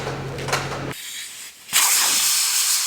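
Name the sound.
air hissing while inflating tractor tires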